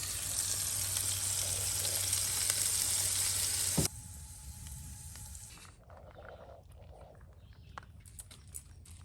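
Burgers topped with mushrooms and cheese sizzle loudly on a griddle at a campsite, a dense steady hiss that cuts off abruptly partway through, leaving quieter crackles and faint pops.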